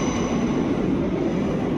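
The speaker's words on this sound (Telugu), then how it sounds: "అక్కడ ట్రైన్స్ ఆగి ఉన్నాయి, వెళ్తాయి." A low, steady rumble of trains fills a railway station near Brighton, a continuous hum without distinct events.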